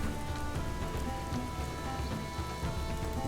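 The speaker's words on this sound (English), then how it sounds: "I wish I could turn off the rain feature." Rain weather effect in the strategy game Northgard, a dense, steady downpour hiss with constant drop texture and faint low rumbling, no voices.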